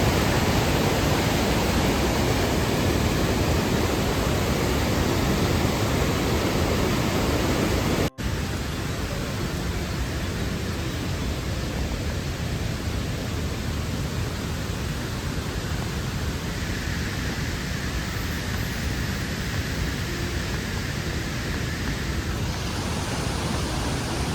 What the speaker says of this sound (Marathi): तुम्हाला पाण्याचा आवाज मागे येत असेल म्हणजे तिन्ही वॉटरफॉलच्या जवळ जाताना पाण्याचा आवाज पन्नास शंभर मीटरच्या अलीकडेच येतो